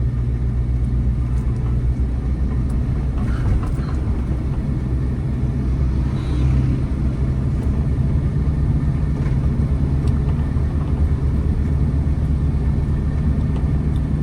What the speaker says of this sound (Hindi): स्पीड बढ़ा लो, जाओ एक्सीलेटर लो